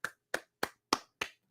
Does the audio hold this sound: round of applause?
yes